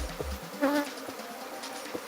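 Honey bees buzz faintly and intermittently nearby while being cleared from a hive comb, with a few brief, closer drones standing out against quiet background.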